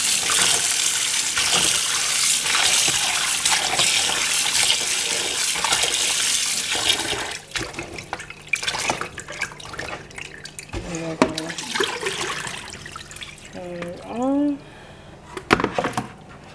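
Running water splashes steadily in a kitchen sink as raw salted pigtail is rinsed to draw out salt, then breaks into irregular splashes and drips with brief voice-like sounds near the end.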